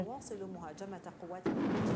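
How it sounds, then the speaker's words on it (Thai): A powerful explosion from an Israeli air strike on the defence ministry in Damascus, Syria, bursts in loud and broad at the end, following a woman's speech heard beforehand. "เป็นการโจมตีทางอากาศอย่างรุนแรงแล้วก็เข้าเป้าไปที่กระทรวงกลาโหมนะคะ จนเกิดการระเบิดแล้วก็มีแรงสั่นสะเทือน"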